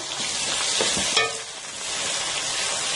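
Ginger garlic paste frying in oil with browned onions in a pan: a steady, dense sizzle throughout, with a brief stir or scrape near the middle, close and continuous, no talking.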